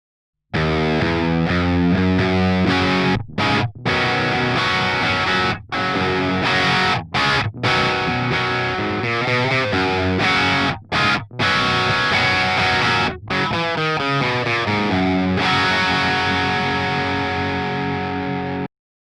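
A heavily distorted electric guitar plays through the Audified Linda RockStack amp plug-in, loud chugging riffs and sustained chords broken by several brief, abrupt stops, with no speech.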